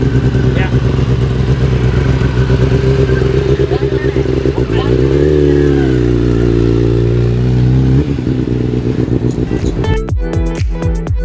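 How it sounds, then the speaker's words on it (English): Loud racing motorcycles roar continuously at a MotoAmerica track, engines droning and shifting pitch with revving bursts near the end, under a steady voice talking throughout. "Because those bikes are super loud, you feel them just shake."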